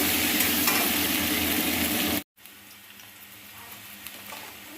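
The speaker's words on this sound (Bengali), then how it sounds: "তো আলুটা একটু ভাজাবো।" Potatoes frying in oil for a thin katla fish curry give a loud, dense sizzle, broken by a brief silent gap, then a softer, steady hiss with light stirring.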